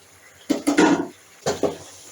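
A metal lid lifted off a pot of simmering chicken and turnip curry, a few close clanks and scrapes in two quick bursts.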